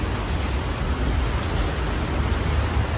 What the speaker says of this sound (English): Also, it's raining a lot.